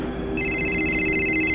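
A phone rings with a bright electronic warbling tone that starts a moment in and continues steadily over a low background hum.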